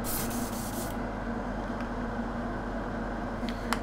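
An airbrush sprays paint thinned with Forge World thinner, giving a steady airy hiss throughout, stronger at the start, with a few faint clicks and no talking.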